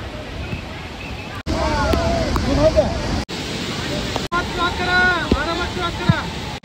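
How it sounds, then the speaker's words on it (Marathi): Water pours at Devkund waterfall with a swelling flow, a continuous loud rush mixed with wind buffeting the microphone, while several voices chatter and call out over it. "पाण्याचा फ्लो आता 10-15 मिनिटातच किती वाढलेला आहे"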